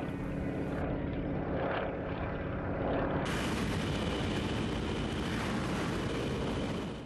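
Steady, loud propeller-engine drone of a parachute jump airplane in flight during a parachuting sport championship in Surgut, continuous and close throughout with no talking.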